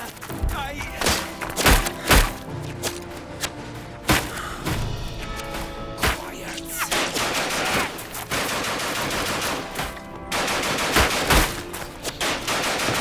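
Machine gun fire in the World War I trench game Ad Infinitum, loud bursts and heavy thuds near and far, broken by pauses and then sustained rattling, with shouting voices over some of it.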